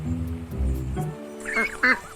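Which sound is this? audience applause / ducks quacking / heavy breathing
ducks quacking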